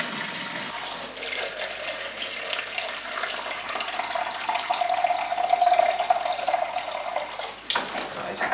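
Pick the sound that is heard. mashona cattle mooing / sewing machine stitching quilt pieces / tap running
tap running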